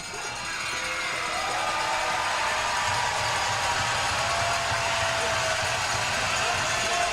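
A large crowd at an ice hockey game roars continuously in an arena, a sustained loud cheer that builds early and holds steady throughout.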